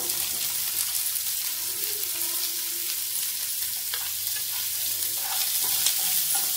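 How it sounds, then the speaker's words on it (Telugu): Onions frying in oil with lentils over a medium-low flame for gongura vepudu, a continuous close sizzle with occasional light stirring scrapes. "ఆనియన్స్ వేసుకొని వేయించుకుంటున్నానండి"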